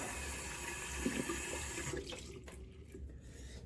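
A bathroom tap runs steadily close by during a shave, a continuous rushing hiss that eases slightly partway through, with no talking.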